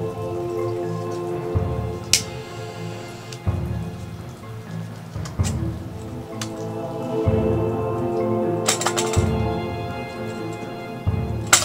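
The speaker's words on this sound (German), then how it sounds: "jetzt regnet es schon wieder draußen" Rain falls outside a yurt, a steady patter of drops on the surface with occasional louder drips and knocks close by.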